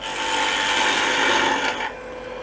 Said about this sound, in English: I'm going to go ahead and try to do a real quick job of hollowing.